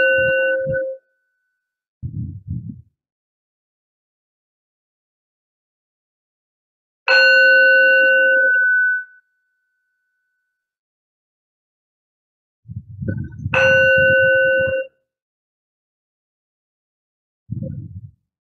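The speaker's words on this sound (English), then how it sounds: "focusing all attention on the sound of the bell, letting the sound seep into through your body," A meditation bell rings twice, each clear metallic strike ringing out for about two seconds, separated by quiet pauses and soft low thuds before and after.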